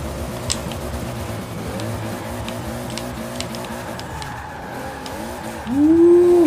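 An 1100 hp Toyota Supra with a drift kit roars through a drift in Forza Horizon 4, the engine snarling and shifting steadily while the tires squeal into a rising screech near the end.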